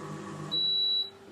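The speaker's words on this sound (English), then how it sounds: "So you just need to press stop and it starts beeping" A HotmixPRO Gastro thermal cooker mixing pound cake batter gives a single sustained high electronic beep when its cycle ends, clear and close, following a low motor hum.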